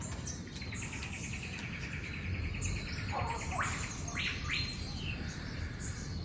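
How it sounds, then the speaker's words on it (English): An Eastern whipbird calls outdoors: a thin sustained whistle ending in sharp whip-crack notes, moderately distant, over a steady bed of insect and bird chatter. "Eastern whipbird."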